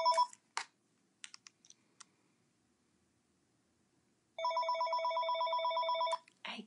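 A telephone in a room gives a long, steady electronic trilling ring after a few scattered clicks and taps, loud and close, then stops abruptly before a brief clatter.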